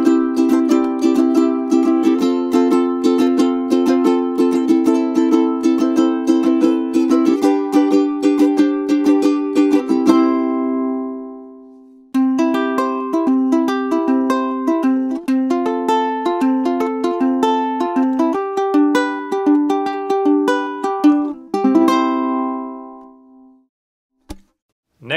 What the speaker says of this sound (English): Next here we have a concert Fluke-ulele.